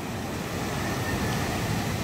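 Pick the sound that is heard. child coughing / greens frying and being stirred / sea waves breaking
sea waves breaking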